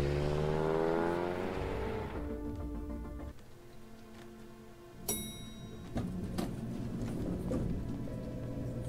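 A car drives in the adventure game Cognition: An Erica Reed Thriller, its engine revving with a rising pitch, then settling into a quieter hum with light ticking and clicks, no talking.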